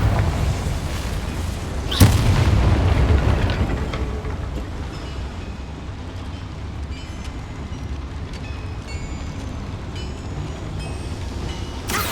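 The Confringo spell in the Hogwarts Legacy video game detonates as a loud, sudden blast with a deep rumbling boom that slowly fades into a steady low background hum, with faint high tones above it.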